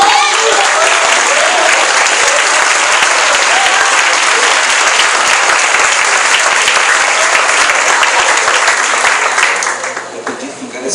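Sustained applause from a church congregation fills the space, loud and dense throughout, tapering slightly in the last second.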